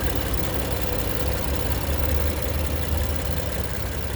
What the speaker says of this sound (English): And that engine sounds smooth